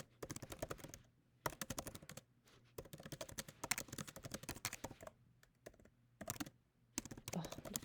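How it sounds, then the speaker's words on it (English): Quick, uneven clatter of typing on a computer keyboard, continuous bursts of key clicks with short pauses, close and fairly quiet with no voice. "I don't even know how long I've been typing for anyway."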